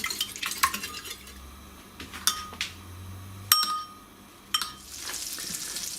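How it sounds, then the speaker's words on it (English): Eggs and milk being mixed in a bowl with a utensil, giving close, intermittent clinks and scraping taps against the bowl, a few sharper knocks spread through an otherwise quiet stretch with no talking. "Now put a couple of eggs in a bowl, a little bit of milk. Just mix this together."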